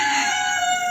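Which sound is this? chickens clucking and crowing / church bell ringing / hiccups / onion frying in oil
chickens clucking and crowing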